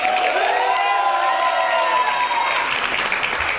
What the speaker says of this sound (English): can we have a huge round of applause and some noise for our 2 finalists?